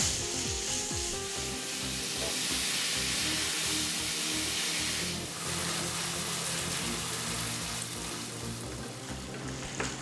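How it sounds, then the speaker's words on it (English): Beef mince frying over high heat in a pan for a Chinese mince and pepper stir fry, giving a steady, close sizzle with scraping and stirring rubs throughout, no talk. "I'm going to increase the heat so that this beef mince browns."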